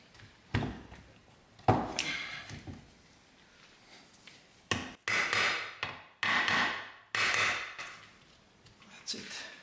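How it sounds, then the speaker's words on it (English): Several sharp taps on the gearbox shafts of a 1977 BMW R75/7 during assembly to seat them, struck close and loud with ringing metallic decays, in uneven groups with short pauses, and no talking. "just do a couple of taps on the shafts so you know that everything is properly seated."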